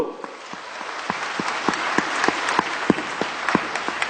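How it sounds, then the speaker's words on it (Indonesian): Audience applause at a sales training seminar in Surabaya, a sustained wash of clapping with distinct sharp claps standing out, moderately loud and steady throughout. "Tepuk tangan untuk Surabaya Bapak Ibu."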